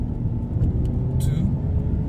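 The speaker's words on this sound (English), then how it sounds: "Let's see how this car handles on the road" Toyota Corolla cruising on the road, a steady low engine and road rumble from inside the cabin with a brief higher hiss partway through, while a person talks over it.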